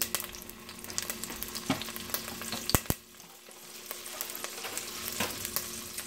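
Olive oil and butter sizzle in a hot cooking pot, a steady close crackling hiss broken by a few sharp pops and clicks, with no talking.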